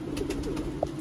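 A brief, soft coo from Sialkoti pigeons sounds nearby, a short low throaty murmur with a quick note at the end, and no voices.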